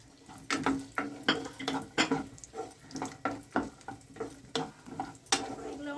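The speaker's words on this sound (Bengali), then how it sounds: "কিছু কাজু কিছু কিশমিশ আর কয়েকটা আমন্ড এই মধ্যে আমি একটু ভেজে নিচ্ছি" Cashews, raisins and almonds fry lightly in ghee for carrot halwa, a soft sizzle broken by repeated clinks and scrapes of a spoon stirring the pan in an uneven rhythm, close and alone.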